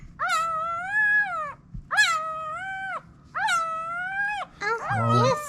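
A day-old German Shepherd puppy lets out three drawn-out, rising-and-falling whining cries followed by a shorter squeal, loud and close while straining, with a faint low hum beneath.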